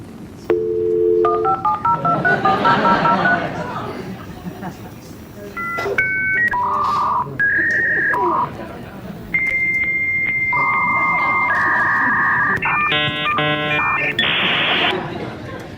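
A dial-up modem handshake plays loud and alone: rapid dialing tones, then a run of shrill beeps, steady whistles and buzzing carrier noise that step through several pitches in sequence.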